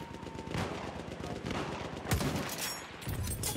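Gunfire in a Battlefield match, rapid bursts of shots and heavy impacts in a dense, continuous battle din, with a sharp loud blast about two seconds in.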